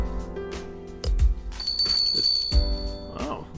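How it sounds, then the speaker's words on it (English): A tiny coffee-shop door bell gives a bright, brief chime on entrance in the video game Helltaker, ringing once over a low game music bed. "The tiny bell chimes to herald your entrance."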